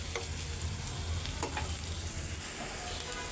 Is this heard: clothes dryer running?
no